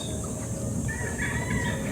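Several chickens cluck and murmur nearby over a steady background hum, with a higher call rising briefly.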